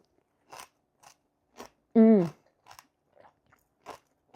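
Homemade sauerkraut crunched while being eaten, several short crisp bites and chews close up, with one brief voiced sound in the middle.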